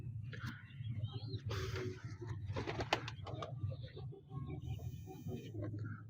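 Teddy pigeons, a Pakistani breed, cooing with low soft rhythmic coos under steady chatter and background noise, with a faint buzzing tone near the end.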